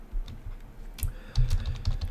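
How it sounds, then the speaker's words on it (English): Someone types on a computer keyboard, a close run of soft irregular clicks and a few heavier key thumps over about two seconds, with no talking. "I don't know why I'm typing that there."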